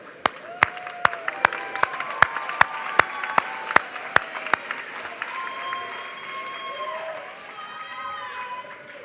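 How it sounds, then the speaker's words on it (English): Graduation audience applauding at a university commencement, with sharp individual claps ringing out loud and close at first, then thinning into softer scattered clapping mixed with crowd murmur and whistling tones. "Join me in another round of applause to honor those who helped you attain your goal of becoming a university"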